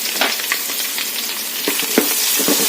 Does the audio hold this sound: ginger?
yes